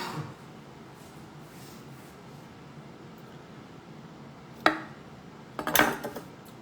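A knife slices a cooked steak in half on a plate, a quiet stretch followed by two sharp scraping clinks of metal against the plate near the end, close and alone.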